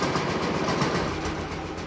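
Vintage tractor engine running just after being started by spinning its flywheel, a dense, steady low rumble with a rapid chugging texture, close and loud throughout.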